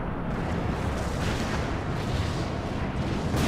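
A dense, roaring explosion rumbles continuously as a generator blows up in Final Fantasy XIV, loud and broadband throughout with no speech.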